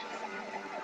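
Ambulance siren from the Spider-Man video game, a steady wailing tone with sweeping pitch glides that sounds loud and continuous throughout, with no talking over it.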